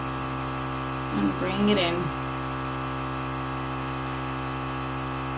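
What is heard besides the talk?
Temptu 2.0 airbrush compressor spraying makeup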